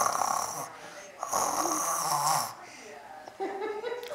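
A child imitates a dad's snoring with loud, raspy, rattling inhales and breathy exhales, several drawn-out snores close to the mic with brief pauses between them.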